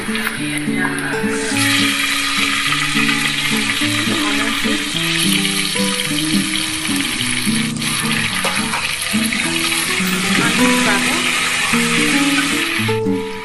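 Chopped onions frying in hot oil for a Bengaluru-style biryani, a steady dense sizzle with bubbling crackle running loud and close throughout, with faint kitchen clatter and a murmur of background voices.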